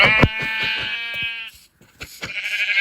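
Sheep bleating close by in a rural outdoor setting, a loud, wavering sustained bleat followed after a short pause by another, with rhythmic crunching or thudding underneath.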